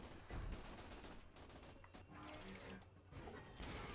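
Gunfire from the video game Tales from the Borderlands, a dense run of shots and mechanical clatter that stays steady and moderately loud for the whole stretch.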